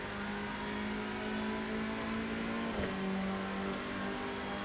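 A race car engine in iRacing at the Imola circuit holds a high, buzzing whine that stays pinned near the rev limiter, with a brief sharp dip and stutter partway through, faint and steady with no voice.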